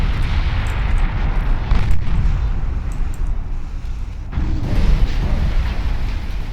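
A heavy enemy cruiser explodes in the naval warfare game Ultimate Admiral Dreadnoughts, a loud, sustained rumbling roar of blasts that swells again toward the end, with no voices.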